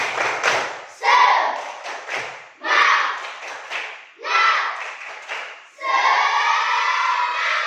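A class of children clapping a rhythmic spirit clap in a classroom, rising in loud bursts of patterned claps with chanting voices, about five rounds in quick succession.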